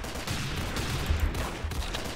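Rapid hand cannon gunfire in the Roblox game Arsenal, a dense flurry of muffled shots and game effects heard at moderate level without speech.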